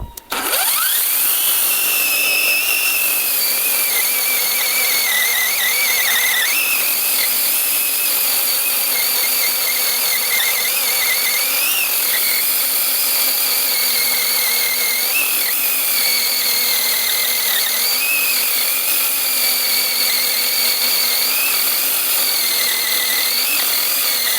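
A cordless L216 saw cuts through raw red oak with a loud, continuous, close whine, its pitch dipping and recovering as the blade loads in the wood over a long steady cut, with no voices.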